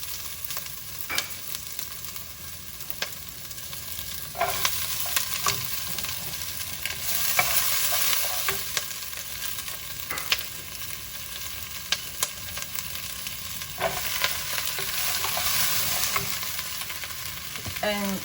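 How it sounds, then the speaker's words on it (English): Holy trinity vegetables sauté in hot oil over high heat, a steady close sizzle with repeated stirring scrapes and clicks throughout, no talking. "The oil is hot, so you put the Holy Trinity, you saute the Holy Trinity first."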